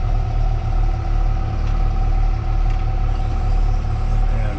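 A triaxle dump truck idles at a rock quarry after pulling in, giving a loud, steady, close low-pitched engine drone that holds without change.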